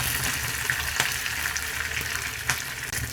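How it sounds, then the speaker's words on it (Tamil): Mustard seeds and urad dal crackle and pop in hot oil, a continuous sizzle with sharp little spits scattered throughout, close and fairly loud. "இப்போ பாருங்க, கடுகு உளுத்த பருப்பு பொரிஞ்சிருச்சு."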